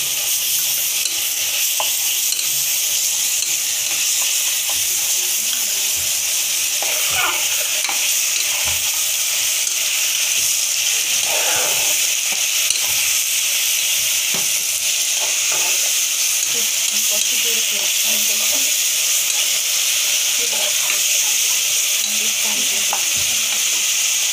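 Garlic paste sizzles steadily in a hot pan with onions and spices for dum biryani, with scraping stirring strokes breaking through a constant loud frying hiss throughout.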